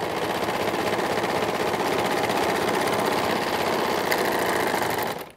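An overlocker runs continuously while stitching elastic for leggings, giving a steady, fast, close mechanical whirr that holds even for about five seconds before stopping abruptly.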